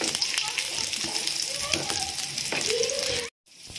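Prawn vadai frying in hot oil, a steady close sizzle and bubbling with occasional clinks as the fritters are turned, ending in a brief cut to quiet.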